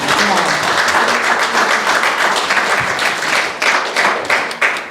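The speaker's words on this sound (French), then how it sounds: "Est-ce qu'on peut applaudir le Seigneur?" A church congregation applauds the Lord during a bilingual French and English service, sustained hearty clapping with individual claps standing out toward the end.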